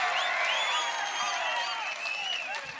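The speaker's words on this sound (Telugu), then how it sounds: "గెలిపిస్తామని గట్టిగా చప్పట్లు కొట్టి మీ హర్షాన్ని ఆమోదం తెలియజేయండి" An outdoor election rally crowd in Pedakurapadu claps loudly and steadily, with dense applause and some whistles throughout.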